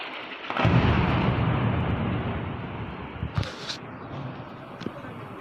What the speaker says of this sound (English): Those the sounds of explosions during those strikes